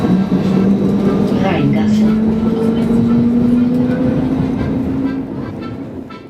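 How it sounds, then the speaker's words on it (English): A tram rolling through the streets of Basel, a steady loud rumble with a rising whine, running continuously close by before easing off near the end. "the trams are almost everywhere, and they make a better match with the style of the city."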